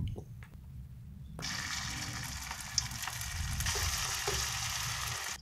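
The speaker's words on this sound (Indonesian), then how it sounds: "Aku lanjut gorengnya sampai tiga kali ya teman-teman dari adonan yang sebelumnya." Cabbage vegetable fritter (bakwan) batter drops into hot oil and erupts into a loud, steady sizzle of bubbling frying that continues without talk.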